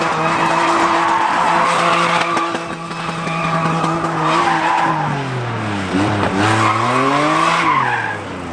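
A car spinning a big donut: loud, continuous tire squeal and skidding over a high-revving engine whose pitch rises and falls as it circles, close and sustained throughout.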